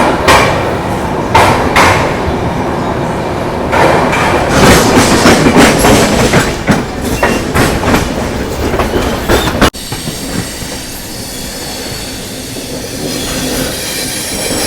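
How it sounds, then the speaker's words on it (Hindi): Ajmer-Sealdah SF Express departing Jaipur Junction railway station in Rajasthan: loud, steady rumble of wheels and coaches with repeated clickety-clack rail-joint knocks and some squeal, heard close from on board, easing to a softer roll near the end. "11 मिनट रुकने के बाद अपनी ट्रेन डिपार्ट करी है Jaipur junction railway station Rajasthan के"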